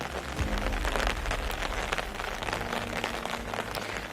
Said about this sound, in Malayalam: ഇപ്പോൾ വൈകുന്നേരം നല്ല മഴയാണ് എറണാകുളം ജില്ലയിൽ